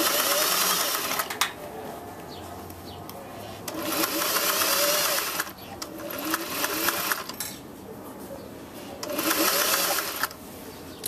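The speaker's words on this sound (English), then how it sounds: "we're going to sew the collar on at 5/8 inch seam allowance" A sewing machine stitches a collar onto a collar band at a 5/8 inch seam allowance, running in close, steady whirring bursts with brief pauses between, while a voice talks faintly underneath.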